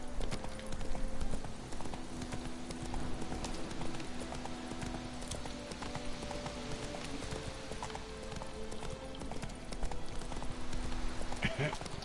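A horse gallops in The Witcher 3: Wild Hunt video game with rapid, continuous hoofbeats over a dense game soundscape, and a person talks throughout.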